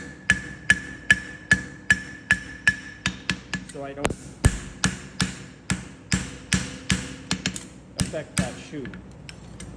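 Sharp metallic hammer blows on a horseshoe over an anvil horn ring out in a steady rhythm, about two per second, close by, with someone speaking briefly between strikes.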